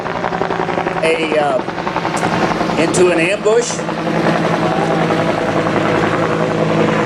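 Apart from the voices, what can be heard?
gunship helicopter flying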